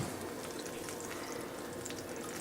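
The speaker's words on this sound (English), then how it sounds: "we got some butter, melted butter in our skillet, and we got her on medium heat" Melted butter heating in a skillet over medium heat, giving a steady, soft sizzle with faint crackling that runs evenly throughout, close by and alone.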